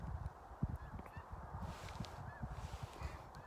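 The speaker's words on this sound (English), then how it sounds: "there's so many birds on top of me, snow geese" Snow geese honk repeatedly over decoys during a waterfowl hunt, a faint distant chorus of overlapping calls from many birds, with scattered closer honks above low background rustle.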